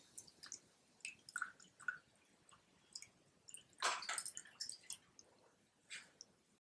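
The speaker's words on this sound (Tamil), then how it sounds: "அந்த துணி லேசாக அதை அலசிக்கலாம்." A cloth is rinsed in water, producing faint close drips, squishes and small splashes in irregular bursts, quiet overall.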